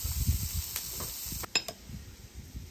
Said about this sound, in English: So down we go with the onions and jalapenos.